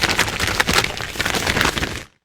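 Foley imitating pigeons taking flight: a dense, close burst of fluttering, crackling wingbeat noise that lasts about two seconds and then cuts off abruptly, with nothing else heard.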